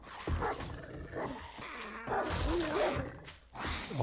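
Zombie dog in 7 Days To Die snarls and growls in several rough bursts, fairly close, against quiet game ambience.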